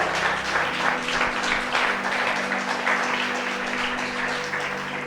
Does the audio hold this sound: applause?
yes